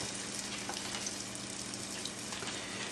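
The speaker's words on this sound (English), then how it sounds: "we're going to throw the patties in there" Tuna burger patties frying in a pan over medium heat, a steady, dense sizzle that runs without a break, close and fairly loud, with no talking.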